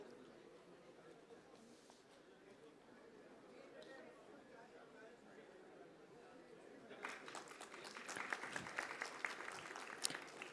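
Audience applause at a felicitation ceremony during an AI summit event, breaking out after a stretch of quiet, murmuring room noise and building into a fuller round of clapping at the end, with talk underneath.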